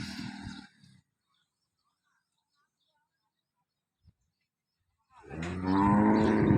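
Cows on a dairy farm, including a black cow, give a loud, long moo close by at the end of the stretch, after a brief low call at the start and a quiet pause between.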